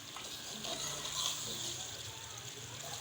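Beef korma cooking in a pot, giving a steady soft sizzle and bubbling with light stirring, while someone talks over it.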